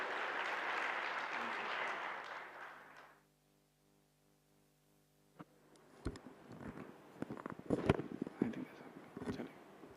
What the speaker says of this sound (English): Please give a big round of applause to Brother Bhavesh Panchal.